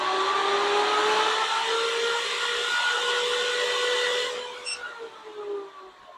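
A MelodySusie SProF dust collector runs with a steady, loud whirring hum. The motor cuts out near the end, and the sound winds down into a fading whine.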